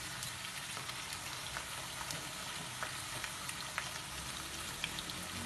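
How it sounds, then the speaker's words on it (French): Potatoes frying in oil make a dense, even crackling sizzle with scattered pops, steady and close throughout with no talk. "Là, je vais frire mes pommes de terre"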